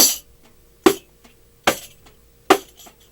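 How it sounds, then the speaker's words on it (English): Four sharp, dry hand slaps on a riq frame drum with jingles, evenly spaced and muted, each dying away quickly with a brief metallic rattle. "this is the sound of the slap stroke or the mute stroke on the rick"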